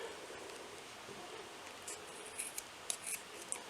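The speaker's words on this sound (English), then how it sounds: "So I'm going to cut the rope here" Scissors snip through crochet rope, a few quiet, scattered cuts near the end of a short stretch against a faint, hissy room background.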